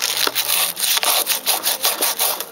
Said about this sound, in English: So we got the sandpaper.